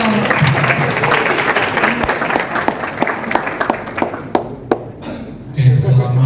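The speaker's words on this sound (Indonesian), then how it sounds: "Boleh tepuk tangan dong." Audience applause in a school hall at an interfaith dialogue event, dense clapping that fades toward the end, with talk over it and a voice speaking again near the close.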